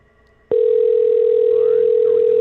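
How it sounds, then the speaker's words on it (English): A steady, loud continuous tone begins abruptly on a telephone line during an outgoing call and holds unbroken, with faint background voices under it. "Okay, so it's ringing on my side."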